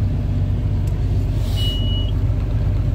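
A John Deere 7810 Common Rail tractor idles after starting, a steady loud low diesel rumble filling the whole stretch with no talk, a brief high tone passing midway.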